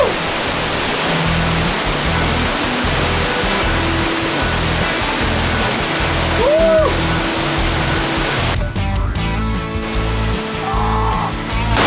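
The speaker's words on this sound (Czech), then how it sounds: "Krásný vodopád, moc se mi tady líbí." Steady, loud roar of a waterfall fills the whole stretch, with a short whistling chirp midway and a change in texture near the end as a person plunges under the icy water.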